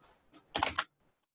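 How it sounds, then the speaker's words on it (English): Brief typing on a computer keyboard: a couple of faint taps, then a quick, close burst of several keystroke clicks, followed by silence. "So just type your name."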